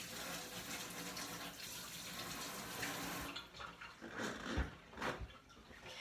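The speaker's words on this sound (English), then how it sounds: "I'm gonna wash up quickly." Running tap water pours into a kitchen sink while hands are washed, a steady splashing stream that breaks into uneven splashes and drips toward the end.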